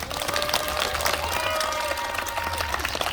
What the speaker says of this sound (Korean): 다시 한번 큰 박수 좀 부탁드리겠습니다.